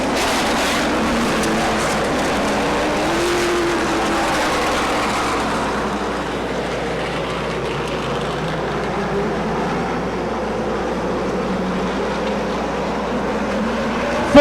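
ARCA Midwest Tour race cars at speed on the track during a Saturday night feature, a steady, loud roar of engines that carries without a break and with no talk over it.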